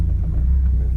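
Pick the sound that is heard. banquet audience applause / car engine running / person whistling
car engine running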